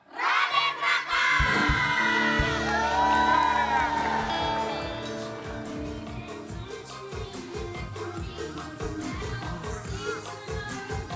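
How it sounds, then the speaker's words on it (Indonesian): A studio audience of fans at a morning TV show shouts a name loudly in unison, then breaks into scattered cheering and whoops that fade to lighter crowd noise. "Nanti kalau aku bilang di pagi-pagi Ambiar, kalian teriak Raden Raka, siap ya?"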